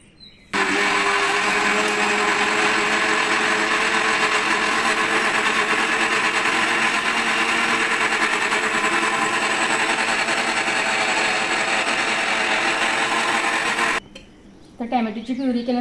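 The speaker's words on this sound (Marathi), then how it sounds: "इथे मिक्सरला मी बारीक करून" Kitchen mixer grinder pureeing raw tomatoes that were briefly soaked in hot water, a loud steady motor whine running almost continuously for about thirteen seconds before cutting off, followed by quieter handling sounds.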